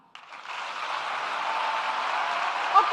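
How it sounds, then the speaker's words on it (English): An audience at a Pan-Africanism panel claps in response, the applause starting abruptly after a brief pause and building into a steady, moderately loud patter that continues to the end. "please let me hear you clap"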